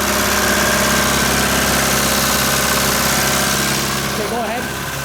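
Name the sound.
old Buda engine running after being seized for years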